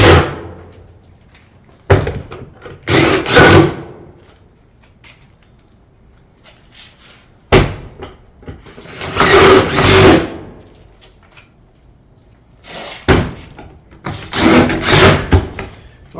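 A power tool drives fasteners into a metal barrel vault tile roof panel over pipe flashing, coming as several separate loud close bursts of whirring and rattling with quiet gaps between them.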